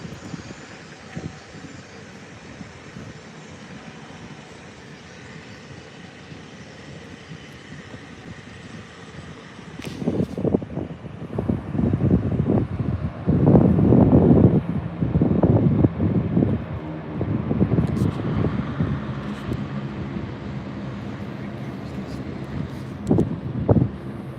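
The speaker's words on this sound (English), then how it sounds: "Come on, Ryanair, let's go." A Ryanair airliner takes off at Lanzarote Airport, its jet engines swelling from a distant steady whine into a loud rumbling roar that holds for several seconds, with wind buffeting the microphone outdoors.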